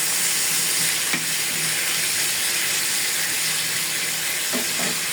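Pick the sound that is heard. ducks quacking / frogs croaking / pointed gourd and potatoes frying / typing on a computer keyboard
pointed gourd and potatoes frying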